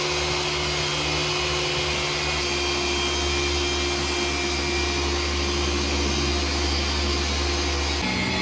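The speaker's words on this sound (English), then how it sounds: "it turns out that I'm going to be polishing this, and Ryan's going to be hitting the roof." A car polisher buffs the wrapped body of a bagged Infiniti Q50, a loud, continuous motor whir with a steady hum that shifts slightly in pitch near the end.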